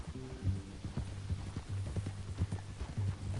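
Steady clip-clop of horse hooves at a walking pace over a low rumbling hum in Red Dead Redemption 2, close and moderately loud with no talking.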